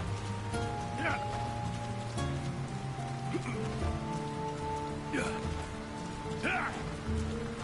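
Steady rain pattering on surfaces in the town of Bree in the video game Lord of the Rings: War in the North, a dense continuous wash with a low hum beneath and occasional faint voices.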